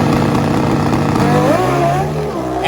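Pro Stock drag motorcycles, a V-twin against a four-cylinder Suzuki, launching side by side at the strip, a loud sustained engine roar with a rising rev pitch as they pull away, under faint commentary.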